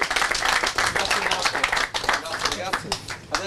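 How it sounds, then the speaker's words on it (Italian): Dense clapping and applause fill a football club's season presentation event, steady and fairly loud throughout with crowd noise, tapering slightly near the end. "Un applauso a tutti questi ragazzi."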